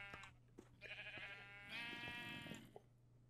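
Several sheep bleats from a Minecraft game, wavering and repeated, fairly close over a steady low background hum.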